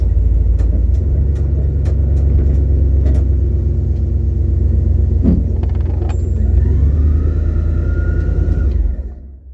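A stripped-down Buick Skylark drives along with a steady, loud low engine rumble and road drone heard from inside the car, a few clicks and rattles over it, before the sound drops away at the end.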